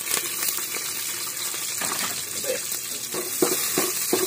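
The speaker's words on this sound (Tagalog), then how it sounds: "So, magigisa tayo ng bawang at sibuyas." Garlic and onion sautéing in a pan, a soft continuous sizzle with light scraping and stirring knocks near the end.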